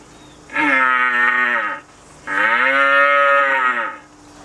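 Two long, deep, guttural moaning roars from a human voice imitating a stag, each lasting over a second, loud and close with a short pause between.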